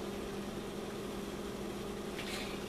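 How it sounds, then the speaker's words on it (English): Sweet tea at a full rolling boil in a pot on the stove, a steady, even bubbling rumble that stays constant throughout, moderately quiet with no talking. "And now we're at a good full boil."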